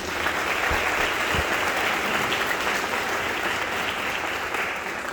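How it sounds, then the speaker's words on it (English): Steady applause from a conference audience at an opening address fills the space, dense and even throughout with no voices standing out. "We can give him a round of applause, please."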